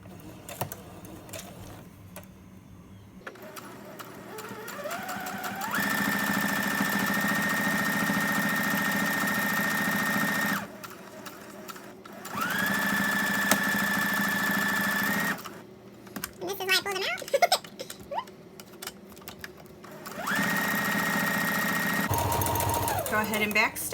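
A domestic sewing machine stitches along a fabric edge in several steady whirring runs, each several seconds long, with short pauses and handling noise between, close and fairly loud.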